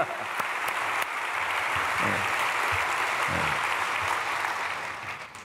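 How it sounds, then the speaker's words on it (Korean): A church congregation applauds at a dawn prayer service, dense steady clapping from a large crowd filling the room before tapering off near the end. "네, 23교구 박수를."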